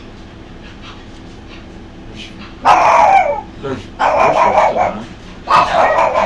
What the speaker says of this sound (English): The dog's outside the tent barking.